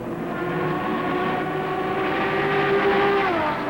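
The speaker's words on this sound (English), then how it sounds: "leading under 2-liter Porsche 904 a bit hot into the turn, no damage" A pack of race cars at the 1966 Daytona 24 Hours, including an under-2-liter Porsche 904 and a Ferrari, drones past in one loud, continuous engine roar, its pitch sliding down near the end as the cars pull away.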